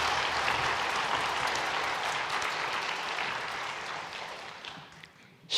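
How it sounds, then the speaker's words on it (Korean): Church congregation at a Sunday worship service applauding to welcome the elder pastor to the pulpit, a sustained wash of clapping that slowly fades, ending with a sharp close thump. "뜨거운 박수로 환영하며 말씀 듣도록 하겠습니다"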